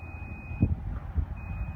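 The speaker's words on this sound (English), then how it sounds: "if you hear that little beep, it's chiming at you" Power tailgate on a 2019 Chevrolet Silverado 1500 High Country chiming while it rises: a steady high beep, a short gap, then the beep again, close and clear over low outdoor rumble.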